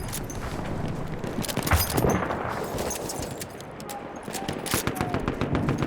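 Machine-gun fire in Battlefield 1, a World War I shooter, with dense overlapping bursts and scattered shots in a noisy battlefield mix and occasional distant booms. Voices talk over the gunfire.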